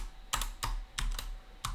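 Notes typed on a computer keyboard in short bursts of crisp, close key clicks separated by brief pauses, with no voice present.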